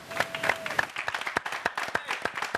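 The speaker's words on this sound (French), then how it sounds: "Applaudissements pour vous." Studio audience on a television arts program clapping briefly, a sparse, uneven patter of a few hands at moderate level rather than a full ovation.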